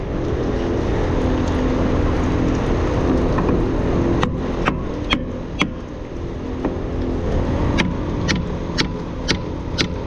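A tanker pump drains thick sand and water with a steady loud rumbling, gushing flow, punctuated in the second half by several sharp clicks and knocks.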